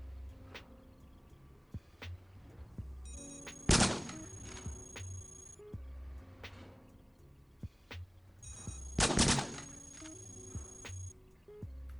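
Flak guns fire in the Cogmind video game, two loud, sharp blasts several seconds apart over a quiet, humming game background.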